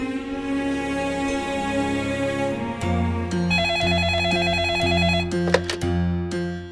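A telephone bell rings in repeated bursts, loud and close, with an electronic ringing tone layered over it and no talking.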